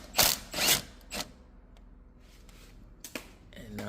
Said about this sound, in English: Now we'll loosen this one to take tension off the belt.